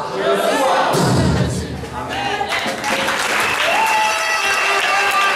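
Congregation at a church service clapping and cheering loudly and continuously, a dense wash of applause with shouts and voices rising over it throughout.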